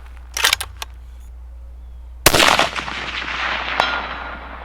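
A rifle fired at a long-range target: one loud, sharp crack with a long rolling echo that slowly fades, preceded by a few soft clicks and taps.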